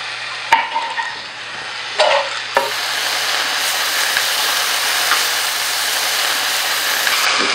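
Ground garlic and fresh ginger frying in a pan for a vegan spinach and potato curry give a steady close sizzle after a few sharp clinks and stirs, continuing without talk.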